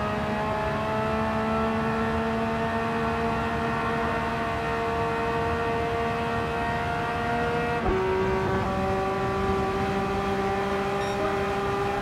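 Race car engines in Gran Turismo 7 drone steadily during a drag race, tonal and sustained, with a sharp gear shift near the end before the pitch climbs again.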